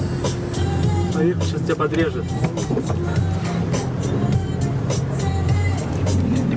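A Mercedes ML jeep rolls along a drainage ditch on safari in Kenya or Tanzania, its steady engine rumble and tyre noise continuous inside the cabin while people talk over it throughout.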